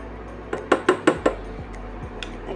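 A spoon stirs salt and ground pepper into chicken thukpa soup in a pot, tapping the metal rim with four quick clinks in a row, followed by a few fainter knocks.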